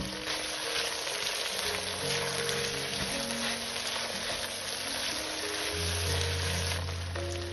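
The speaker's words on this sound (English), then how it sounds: "Mix them with the onions and carrots and let everything cook together for about 1 minute." Diced potatoes, onions and carrots sizzle and fry steadily in a pot. A continuous close hiss carries soft crackles and runs on without talk.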